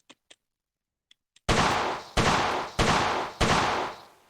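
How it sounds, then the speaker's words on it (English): A COP .357 Derringer pistol gives a few faint mechanical clicks, then four loud, close gunshots at a steady, evenly spaced pace, each with a short decaying echo. "let's fire the rest of the ammunition"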